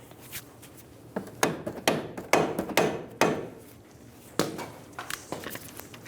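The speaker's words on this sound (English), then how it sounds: "With the bracket lined up for the strut bolt, we'll install the bolt." A strut bolt goes into a 2000-2007 Ford Focus, with a series of sharp metallic knocks and taps, irregular and close, against a quiet background without talk.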